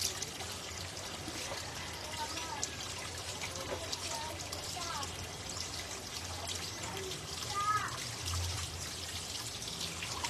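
Water running and splashing steadily during a bath, a continuous pouring trickle at close range with faint talk underneath.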